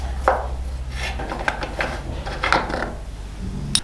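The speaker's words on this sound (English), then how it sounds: "Now we can take our 6mm Allen key and remove the last 2 bolts holding on the rear fender." A 6mm Allen key works out the rear fender bolts on a 2021 CFMOTO 700 CL-X motorcycle, giving close metallic scrapes, clicks and rubbing sounds in an irregular rhythm with no talking.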